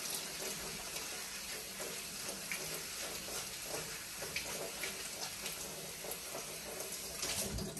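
Tap water runs steadily over ingredients being rinsed clean for a homemade drink, a constant soft splashing gush throughout, fairly quiet with no speech.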